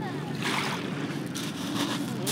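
Sea water at the shore on the Washington State coast in spring, a steady broad wash of waves with wind buffeting the microphone throughout, close and fairly loud, with no talking.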